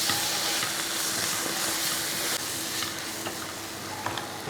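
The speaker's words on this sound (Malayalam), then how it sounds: "അതിന് ശേഷം ഇളക്കി ഇതെല്ലാം കൂടെ നല്ലപോലെ മിക്സ് ചെയ്തെടുക്കുക." Beef masala with tomato is stirred in a hot pan for Kerala-style beef varattu, giving a strong, steady sizzle up close with occasional scraping strokes of the spoon.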